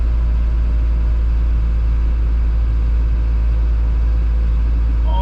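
An Isuzu NPR truck engine labours steadily up a snowy hill, a loud, constant low rumble with no clear revving changes and no talk.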